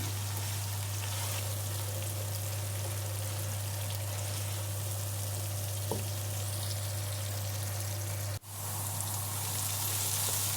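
Peas and chopped tomato sizzle steadily in a hot pan while being fried for pilau, a continuous close crackle with a brief stir knock partway through.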